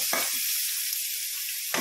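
Ginger and garlic fry in hot oil for a raw-banana dish, a short close sizzling hiss with brief louder bursts at the start and end.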